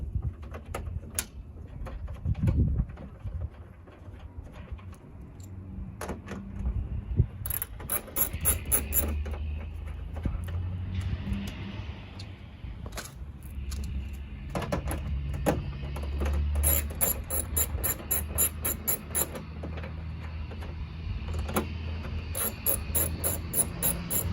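A ratchet wrench clicks steadily while removing 8mm bolts from the hood scoop of a Subaru WRX, giving close, rapid runs of metallic pawl ticks that repeat over and over, with some clanks of tools handled between runs.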